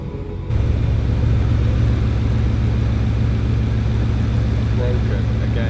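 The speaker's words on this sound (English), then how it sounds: "The gearbox pump is just stuck on. Still pumping now." A Bugatti Veyron's gearbox pump stuck running, a steady low mechanical hum that switches on loudly after half a second and holds constant throughout, close by.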